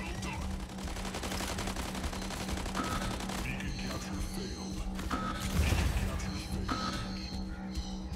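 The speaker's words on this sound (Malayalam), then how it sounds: "എനിക്ക് വെടി കൊണ്ടുകൊണ്ടിരിക്കുകയാണ്" Rapid gunfire strikes a mech in the Mech Arena video game, a dense stream of shots and impacts running steadily under game music and effects for the whole stretch, with a louder burst of hits near the end.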